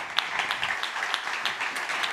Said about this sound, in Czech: A teďko jeden velký potlesk pro všechny